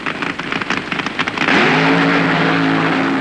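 A drag racing car launches off the starting line at full throttle, a rough crackling idle surging into a loud, sustained engine roar that climbs in pitch and holds close and steady.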